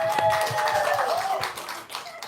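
Audience clapping at a talk event, a short burst of scattered applause with a voice speaking over it.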